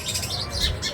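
A flock of house sparrows in a lemon tree chatters and chirps continuously, a dense cluster of short tweets from nearby birds.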